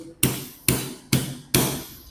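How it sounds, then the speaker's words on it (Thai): Rubber mallet striking the back of an Army R614-1 BB pistol, four sharp, evenly spaced knocks with short decaying tails, close and loud, nobody talking. "ใช้ค้อนยางกระแทกท้ายนะครับ"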